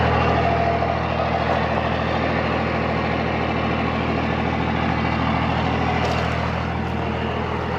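A skid steer with an auger attachment runs as it is loaded onto a trailer at a Christmas tree farm, its engine a steady, loud, unbroken diesel drone throughout.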